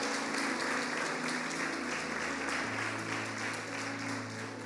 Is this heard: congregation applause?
yes